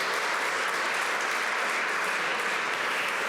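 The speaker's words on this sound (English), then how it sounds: "Yeah, round of applause." Conference audience applauding sponsors at a political society's New Year gathering, a broad, continuous roar of clapping heard at steady volume throughout.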